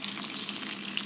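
Food fries hard in grease in a pan, giving a dense, close, continuous sizzle with no voices and no breaks.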